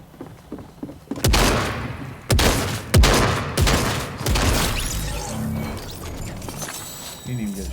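Shotgun blasts from a first-person shooter game ring out with several sharp, loud reports spaced over a few seconds, mixed with thuds and other game noise.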